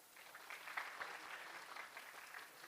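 A small audience claps for two volunteer models at a manual therapy lecture on SI joint dysfunction, faint, somewhat distant patter of hands lasting a couple of seconds.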